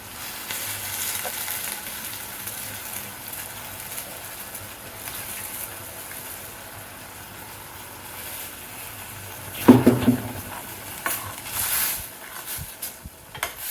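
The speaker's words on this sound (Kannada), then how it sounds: "ಈಗ ಕಡಲೆ ಬೀಜದ ಹಾಲು ಹಾಕ್ತಾ ಇದ್ದೀನಿ" Peanut milk poured into a pot of village-style greens sambar, with a steady soft sizzle and bubbling throughout and a brief louder splashy burst partway through, with no voices.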